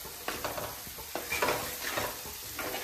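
Masala for a crab curry cooking in a pan while being stirred, with a close sizzle broken by repeated scraping strokes of the spoon.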